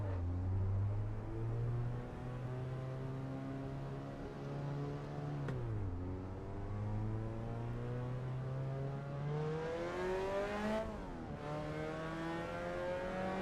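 Mazda MX-5 engine in the racing game Assetto Corsa EVO drones steadily, rising through the revs with two quick gear-change dips before climbing again, loud and continuous throughout.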